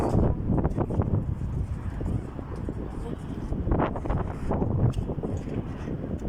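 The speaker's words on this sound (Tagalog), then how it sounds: "Oh, hangin kayo." Wind buffets the microphone outdoors at night in Kuwait near a basketball court, a steady, gusty rush with voices talking over it.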